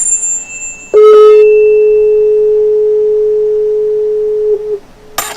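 A steady pure tone pitched at the note A, 426 hertz, sounds alone for nearly four seconds after a brief bell-like ring, fading slightly before it cuts off.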